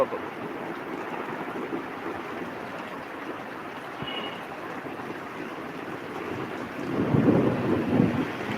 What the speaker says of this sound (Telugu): ఫుల్ వాన పక్కన గాలి పక్కన వాన